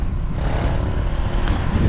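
A 2012 Honda CG 150 Titan Mix motorcycle fitted with a Fortuna exhaust, its engine running with a steady, throbbing low rumble close by and no talking.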